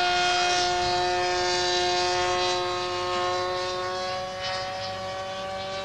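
A Nitroplanes Kangaroo RC airplane with an LS 46 nitro engine drones in a steady, high, tonal whine on its maiden flight, fairly loud and sustained, with a slight dip in level near the end.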